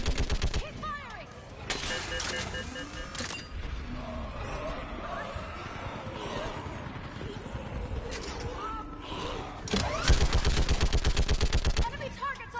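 Heavy gunfire in the video game Mass Effect 3, with loud automatic bursts and scattered shots across the scene, strongest near the start and end, among shouted voices and battle noise.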